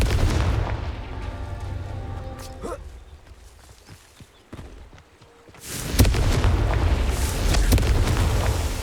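A fire spell blast in Hogwarts Legacy erupts as a heavy, booming explosion with a rumbling tail, loud and close, following quieter game ambience.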